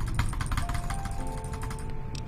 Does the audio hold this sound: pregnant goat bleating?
no